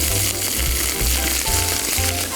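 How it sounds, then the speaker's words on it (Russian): Thin strips of iceberg lettuce fry in a pan with a loud, dense, close sizzle that holds steady for a couple of seconds, with faint stirring movement underneath. "Быстренько обжариваем салат."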